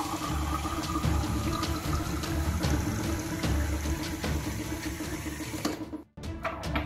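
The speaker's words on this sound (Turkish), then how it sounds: "Ardından şu zayıf bardağımıza filtreden su koyuyorum." Tap water runs steadily from a Philips WP3812 faucet-mounted filter into a glass, a continuous close pour that stops abruptly near the end, leaving only faint room noise.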